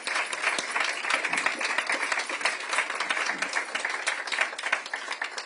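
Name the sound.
audience applause for freed hostages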